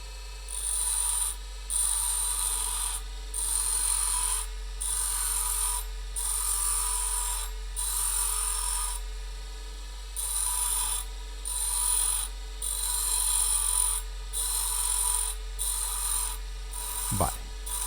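Bench grinder relief-grinding the back of a drill bit's flat tip, a steady motor hum under repeated bursts of bright grinding hiss, roughly one per second, close up and without speech.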